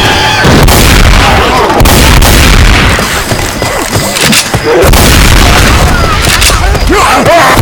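Gunfire from a Left 4 Dead 2 match, dense, loud overlapping bursts of shots and booms filling the whole stretch with barely a pause, mixed with shouting voices.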